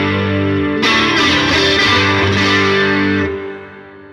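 Electric guitar through a Yamaha THR practice amp on its crunch setting plays a loud, gritty strummed chord with several rhythmic strikes, then cuts off and leaves a steady hum.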